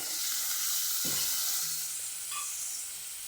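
Ginger, turmeric and washed raw papaya pieces sizzle in a frying pan, a steady close hiss with brief stirring clatters partway through.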